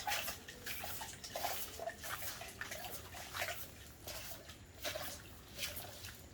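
Water is sprinkled and splashed onto burnt rice husk in uneven, soft patters and trickles, faint and close, with no talking.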